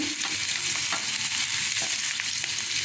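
Chopped onion sizzling in hot oil in a pan for homemade chicken manchurian, a steady bright hiss with small crackles and occasional stirring scrapes.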